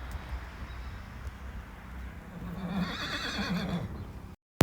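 A mare tethered outside lets out a loud, wavering whinny partway through, over a low outdoor rumble that cuts off abruptly at the end.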